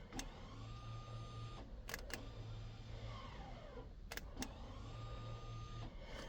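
An electric parking brake actuator motor on the rear caliper of a 2020 Kia Telluride with about 85,000 miles whirs close and steady in three separate runs, with short sharp clicks between them.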